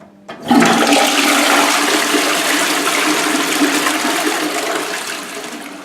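A toilet flushes with a loud, close rush of water that swells after a brief click and keeps swirling steadily down the bowl, easing slightly toward the end, with no voices.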